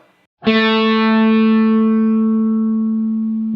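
After a brief silence, a single distorted electric guitar note with effects is struck and held steady without vibrato, ringing loud and sustained close by with no voices.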